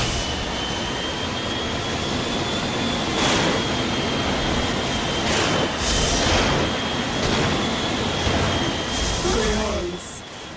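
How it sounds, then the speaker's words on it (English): A futuristic anti-gravity racing craft from Wipeout Fusion roars in a dense, continuous high-pitched engine drone with a thin whistling tone, swelling in periodic surges like passing bursts of speed, loud and unbroken throughout. "Wipeout Fusion was the game in the Wipeout series that gave us more variety to our engine sounds"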